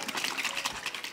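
Trader Joe's oat milk sloshes inside its carton as it is shaken, a steady, close liquid churning and splashing that runs unbroken for a little over a second with no talk.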